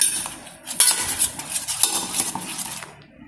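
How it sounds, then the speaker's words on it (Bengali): A spoon scrapes and clinks against a bowl while stirring spice masala into white oil for a tandoori chicken marinade, a steady run of close, busy metallic scraping with no talk. "দিচ্ছি সাদা তেল, দিয়ে তাকে চামচের সাহায্যে ভালো করে মশলাটাকে তৈরি করে নেবো।"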